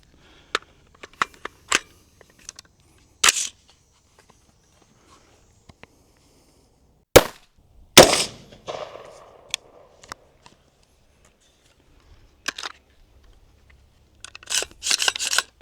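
5.56 FMJ rifle rounds are fired into soybeans in a farm ballistic test: a few sharp, loud bangs stand out alone against silence, scattered with small clicks and handling knocks.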